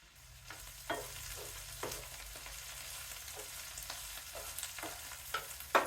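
Green beans and onion frying in bacon grease in a pan, with a steady close sizzle and irregular soft stirring scrapes throughout, no voices.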